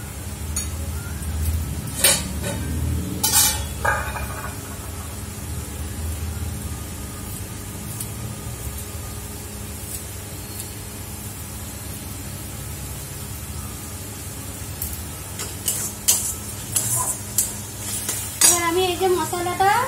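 Tomato and spices frying in a home kitchen pan, a constant loud hissing sizzle with a few clinks and stirring knocks of utensils against the pan. Near the end a brief louder sputter bursts out.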